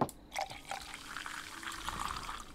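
Ale pulled from a tap in a tavern video game, a soft liquid pour with gentle trickling and splashing, faint and steady over a couple of seconds.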